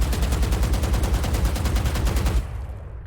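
Rapid automatic gunfire from Brimstone's weapon in the game Valorant without a stim beacon, a steady burst of evenly spaced loud shots lasting over two seconds, then cutting off to a quieter tail.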